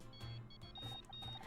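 Phone ringing in the murder-mystery video game Murder by Numbers, a repeated electronic beeping tone in short bursts over a steady low game music bed.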